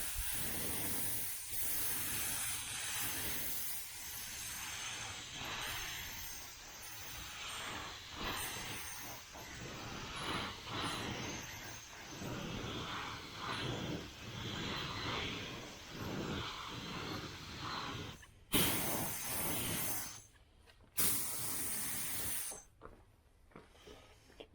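Spray painting coats onto a 1976 Chevrolet El Camino with an air-pressure sprayer, a steady hiss running continuously for about eighteen seconds, then broken into shorter bursts with gaps of silence near the end.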